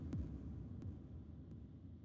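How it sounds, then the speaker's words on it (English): Big electronic kick drum drenched in reverb and delay, a music production effect for build-ups and breakdowns, booming low thumps at wide intervals with echoing tails trailing under a steady hum. "the big kick with the reverb on it and the delay"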